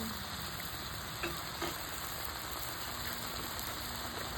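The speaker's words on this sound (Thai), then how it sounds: "เดี๋ยวรอให้เดือดน้ำงวดนิดนึง" A vegetable dish simmers in a pan as its liquid boils down, giving a steady, even sizzling hiss throughout with a couple of faint clinks.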